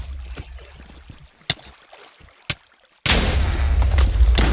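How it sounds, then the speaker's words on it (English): A boss enemy in a video game blows up with a sudden, loud, sustained blast that fills the mix after two short sharp pops, continuing to the end of the clip. "Be careful, he explodes quite a bit."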